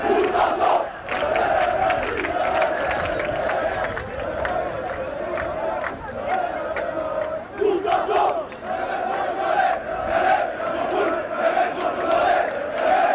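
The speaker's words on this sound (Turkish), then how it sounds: "Musa Sov için tezahüratlar" Football fans at a Fenerbahçe training session chant rhythmically for Musa Sow, a loud massed crowd voice repeating a sung phrase over and over with brief pauses between repetitions.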